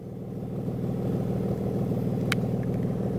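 Ford Escape engine idling steadily after sitting unused for three years, a smooth even low rumble close by that swells slightly and holds, with a brief metallic tick near the end.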